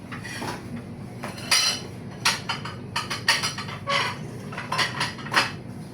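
Aquarium glass is cut and handled while a broken tank is repaired: sharp scraping strokes and clinking knocks of tool on glass in several loud bursts, close by, with no talk.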